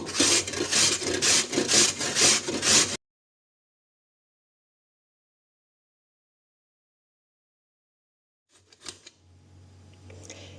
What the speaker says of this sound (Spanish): lo que voy a hacer ya con una de ellas es rallarla sin llegar al corazón y con mucho cuidado en los dedos